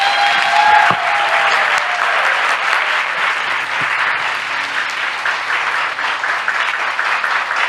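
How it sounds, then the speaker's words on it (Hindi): A church congregation applauds for a hero at a sermon, broad many-handed clapping that is loud at the start and thins slightly toward the end, with no speech over it. "आइए इसके लिए ताली बजाएं हम"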